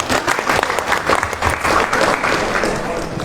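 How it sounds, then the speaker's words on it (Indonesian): An audience at a hybrid national seminar applauds the speakers, a dense, steady clapping of many hands filling the room without a break. "kita berikan aplaus kepada para narasumber"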